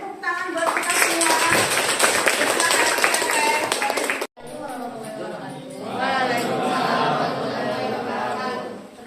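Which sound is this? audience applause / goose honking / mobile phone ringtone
audience applause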